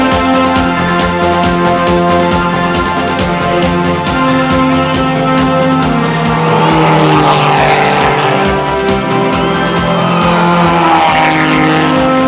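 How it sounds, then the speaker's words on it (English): A Daihatsu Charade rally car on the 1990 Safari Rally revs hard and accelerates back onto the course, a loud, sustained engine drone whose pitch climbs through the gears, close and steady with no talk. "car number 31 returns to the course."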